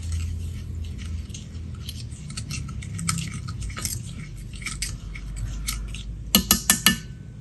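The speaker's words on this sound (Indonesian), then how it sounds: "Kemudian kita aduk-aduk." Soft scraping and clinking of a spoon stirring yeast, flour and warm water in a bowl, steady and close, ending with a few quick sharper knocks against the rim.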